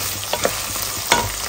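Drumsticks (sajne) frying in a pan with garlic and onion just added, a steady close sizzle with a few sharp stirring clatters and spatula scrapes, no voices.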